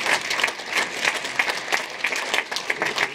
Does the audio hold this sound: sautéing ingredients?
no